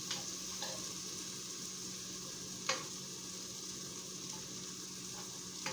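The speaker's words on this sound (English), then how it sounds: "you are going to flip them over and let them have a nice browning on the other side" Chicken pieces brown in a pan with a quiet, even sizzle, broken by a few soft clicks and taps of a utensil spaced through the clip.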